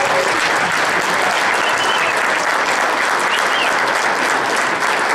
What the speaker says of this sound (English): I would like to give a big round of applause to the Eureka